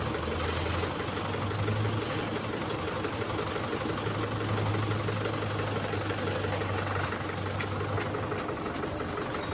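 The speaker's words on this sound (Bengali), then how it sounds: "এই হচ্ছে লোডার।" A loader engine runs at a building construction site, giving a continuous rough, knocking mechanical drone at a steady level with no break and no talking.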